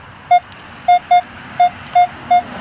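A metal detector fitted with a 10x5 Coiltek coil, swept over trashy ground, sounds six short, clean, evenly pitched beeps, close and clear over a faint hiss.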